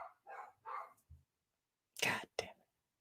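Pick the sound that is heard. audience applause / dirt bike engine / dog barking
dog barking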